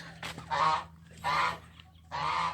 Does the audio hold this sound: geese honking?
yes